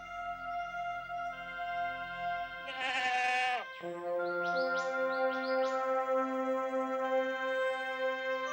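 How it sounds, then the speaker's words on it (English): Feral mountain goats, including a billy, bleat in rugged former gold-mining country, a few wavering nasal calls standing out over a steady layered background of birdsong and insect-like tones. "I'm happy for Jason to see these hardy mountain goats, but will not allow Misty to chase the feral billy"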